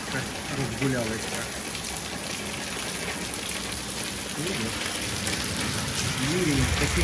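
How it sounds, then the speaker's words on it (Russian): Steady heavy rain pours down in Carinthia, Austria, in a dense, continuous hiss, with a few faint voices briefly audible beneath the downpour. "Как из ведра льет прямо."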